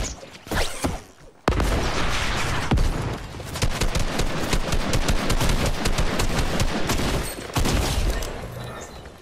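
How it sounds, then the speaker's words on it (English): Rapid gunfire in an OG Fortnite match, a loud, dense stream of automatic shots that runs almost without pause after a short quieter opening. "Oh, I hear shots."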